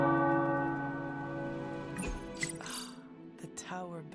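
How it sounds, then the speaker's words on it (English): Tower bells ring in the video game Marvel Midnight Suns, with sustained, resonant tones that fade as a voice begins speaking over them. "The tower bells are ringing."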